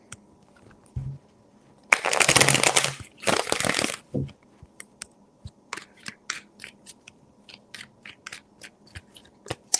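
Tarot cards shuffled in one dense, close burst of riffling, followed by a few scattered light clicks and taps as the deck settles, with no voices.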